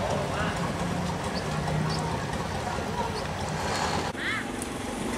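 A stone-hauling riverboat turns on a busy river, its low, steady engine drone rumbling continuously with water wash around it, and voices talking intermittently over the motor.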